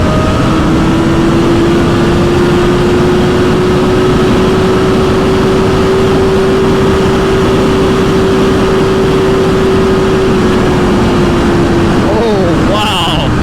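A 2024 BMW S1000RR engine drones loud and close under heavy wind roar, holding a steady high whine for several seconds before the pitch shifts and wavers at the end.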